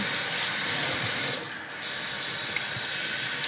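Two tomatoes are washed under a running kitchen tap, a steady close hiss of flowing water with a brief dip in the middle as the stream is interrupted.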